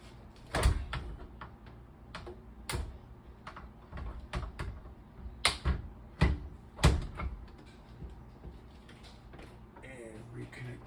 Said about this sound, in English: Let's go put the door back on the microwave.